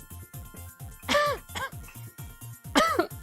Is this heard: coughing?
yes